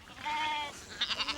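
Sheep in a Kenyan Maasai setting bleat in a short sequence: one drawn-out wavering call followed by several quick, quavering bleats, fairly faint and close with no talk.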